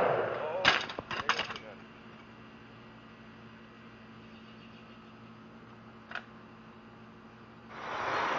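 An R. Richardson trade shotgun fires a modern low brass shell outdoors, several sharp loud reports in a quick cluster early on, then a quieter pop and a rising burst of noise near the end.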